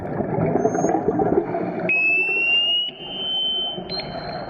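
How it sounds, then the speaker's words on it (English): Underwater ambience with a low murmur, then sharp rising military ship sonar sweeps used to search for submarines cut in, loud and shrill, repeating a few times. "Military ships, including Canada's, use those sounds to search for subs."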